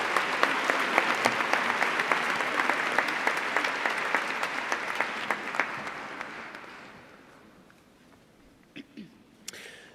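A graduation-day crowd at Imperial College Business School claps for its graduates, full dense applause that holds for several seconds, then thins and fades to a few scattered claps.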